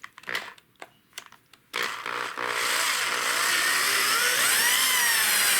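A drill fitted with a Forstner bit bores a hole. A few knocks and taps come first, then a loud, sustained, high whining drone with a slight pitch wobble as the bit cuts.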